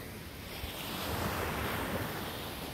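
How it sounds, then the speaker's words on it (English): Surf washes steadily onto the beach at Portrush, Northern Ireland, early on a July morning, a continuous broad roar of breaking waves mixed with wind buffeting the microphone, with no voices. "Just off the beach here."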